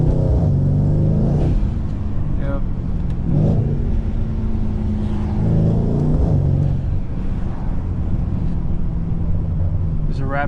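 A Mercedes C63 AMG engine rumbles and revs in repeated surges while drifting on snow after a blizzard, loud and close from inside the car, pitch rising and falling with each slide, with people talking over it.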